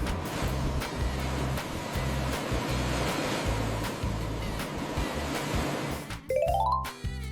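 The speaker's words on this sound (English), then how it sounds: "Fire rescue boat. Specialized watercraft for firefighting and rescue on rivers, lakes, harbors, equipped with pumps and rescue gear." Fire rescue boat out on the water, with a steady low engine thrum and waves washing around the hull, wind rushing past, and a rising siren wail breaking in near the end.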